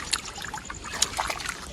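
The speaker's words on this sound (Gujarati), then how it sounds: "આપણે વાડીમાં પાણી વાળી છે" Irrigation water trickling and splashing into a farm field planted with carrots, a steady wet gurgle with brief louder splashes, fairly close and without talk.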